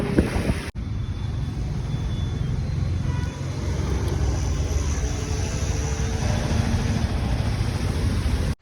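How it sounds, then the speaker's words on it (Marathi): Steady broadband rumble of vehicles moving behind, with wind buffeting the microphone throughout and a brief cut near the start. "मागून गाड्या येतात आवाज पण येत तसं"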